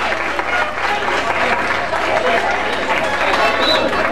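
Audience claps for traditional cumbia and puya cañamillero musicians, sustained, dense applause with cheering and crowd noise, loud throughout, while people talk over it.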